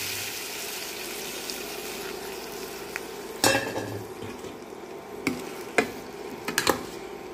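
Dried fish stirred in a frying pan for karuvattu kulambu with elephant foot yam, a steady soft sizzle under several sharp scrapes and clacks of the spoon against the pan, no talking.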